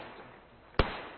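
A frag grenade detonates during platoon infantry training, a single sharp blast that stands out loud and close against steady background hiss, then trails off in a brief rumbling decay.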